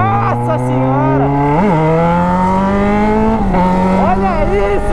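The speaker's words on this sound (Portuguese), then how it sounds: "Que saudade dessa moto solcando, mano!" A new motorcycle with only a bare exhaust pipe fitted revs loudly and close by, its engine note sweeping up and down over about five seconds with brief drops between throttle blips.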